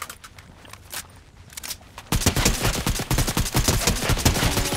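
SMG fire in Fortnite, a few scattered shots at first, then a loud sustained rapid-fire burst of close, dense cracks.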